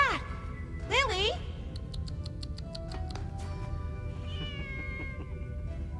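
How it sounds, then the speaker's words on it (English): A cat gives two rising, wavering meows up close near the start, followed by faint ticking and a quiet tonal background. "That goddamn cat is nuts!"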